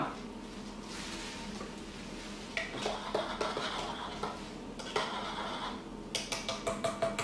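A utensil scrapes and clinks against a metal pan in repeated stirring strokes, with brief knocks and rattles, close and fairly quiet.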